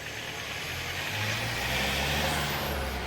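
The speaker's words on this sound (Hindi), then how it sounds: "देखो देखो देखो, गाड़ी गई" Vehicle passing on a street below a balcony on a cool, windy day, a broad steady engine and tyre rush holding at a moderate distance throughout, with no voices.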